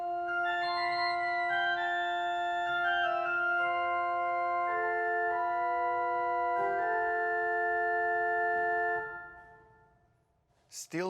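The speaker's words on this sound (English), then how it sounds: "Also in the swell we have the 4-foot traverse flute and a 2-foot piccolo." Flute stops of a 2020 Schumacher pipe organ in a church in Raelingen, Norway, the 8, 4 and 2 foot ranks sounding together, play a sustained passage of stacked chords for about nine seconds, then stop and fade into room reverberation.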